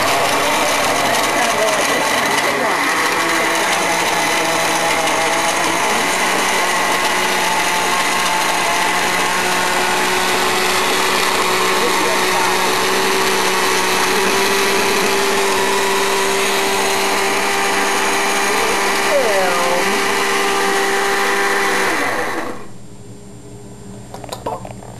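A blender whirs steadily at high speed while blending a milkshake made with skim milk and banana, loud and continuous for over twenty seconds, then winding down abruptly near the end.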